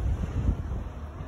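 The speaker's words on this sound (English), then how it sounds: "The ocean." Wind buffets a microphone on a Portuguese coastline overlooking the ocean, with low rumbling surf beneath the gusts; no one speaks.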